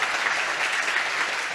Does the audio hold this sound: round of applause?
yes